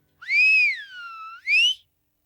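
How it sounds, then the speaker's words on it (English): Sharp, loud two-finger whistle, a single piercing blast that swoops up, dips and rises again in a final short burst, close and alone against silence. "we heard a sharp, loud whistle"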